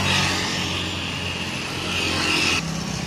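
A Mercedes-Benz OH 1526 bus engine with an XR2 body runs as an NPM intercity bus pulls away, giving a steady close rumble with a hissing whine on top, then a sudden drop near the end.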